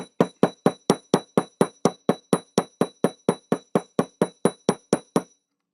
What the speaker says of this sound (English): You just keep hammering.